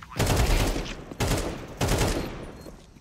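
Gunfire bursts in Counter-Strike 2 during a solo Premier match: three loud, close volleys of shots, each cutting in sharply and trailing off.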